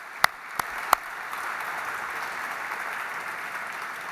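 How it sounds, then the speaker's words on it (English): Applause from an opening-evening audience for a museum director and historian, a steady crowd wash of clapping that starts with a few sharp claps and settles into sustained, even applause. "Let's give him a big round of applause right now."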